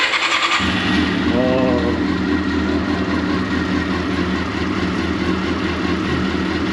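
A Honda CBR400RR motorcycle engine cranks and catches, then settles into a steady, loud idle with a low exhaust rumble, close up and on its own.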